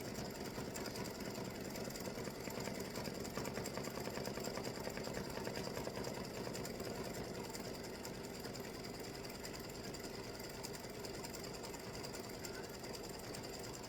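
A sewing machine runs an open zigzag stitch around an embroidered baseball field on a tic-tac-toe game set, a steady rapid mechanical whir that stays loud and even throughout, with no voices.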